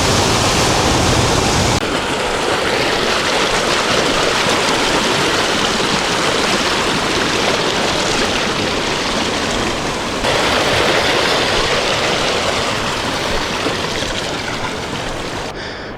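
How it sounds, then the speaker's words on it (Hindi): A mountain stream in Gupis Valley rushes beside a walking path, a loud, continuous broadband wash of flowing water with no pauses, close by and steady throughout. "साथ साथ पानी का नाला चल रहा है जैसा कि आपने देखा"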